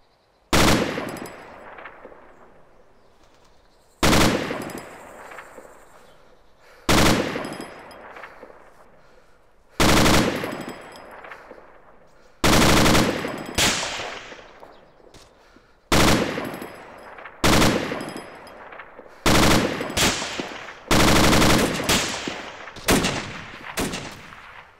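Machine gun fire in the video game Arma 2, heard as about a dozen loud, sharp bursts spaced a few seconds apart, each one cutting off abruptly into a fading echo, with no talk over it.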